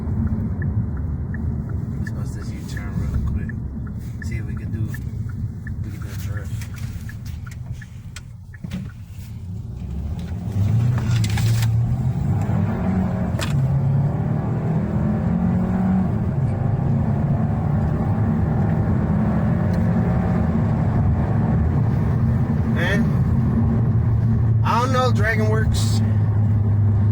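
A Kia K5 sedan fitted with a Dragonworks performance chip accelerates through a U-turn, its engine a steady low rumble with road and cabin noise throughout, heard from inside the car.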